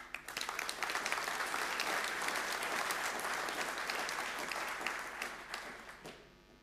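A conference audience breaks into applause at an NLUUG 2017 event, dense clapping that swells quickly, holds steady, then thins out and fades near the end.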